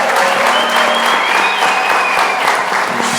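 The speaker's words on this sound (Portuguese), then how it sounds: "Vamos dar um aplauso aí para a vida dele." Loud, dense applause from an audience at a Christian talk on being a doctor, steady and continuous throughout with a faint whistle-like tone riding on top.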